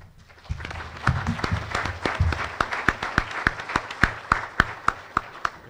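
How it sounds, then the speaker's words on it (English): Audience applause following a panel discussion, starting as a soft scattered patter and building into dense clapping with several loud, distinct claps standing out near the microphone. "So you should go up because you get applause."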